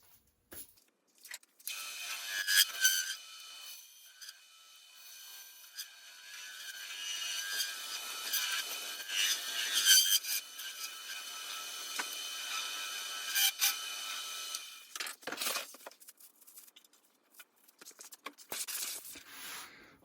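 Wood being turned on a lathe to shape the crown of a competition spintop: a faint scraping and whirring of the tool against the spinning wood comes in intermittent passes with pauses between them.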